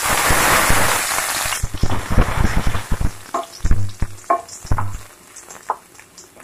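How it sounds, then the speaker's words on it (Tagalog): Garlic dropped into hot cooking oil, a loud burst of sizzle that settles into softer crackling, with clattering stirs against the pan close by. "Magigisa na tayo. Unahin natin yung bawang."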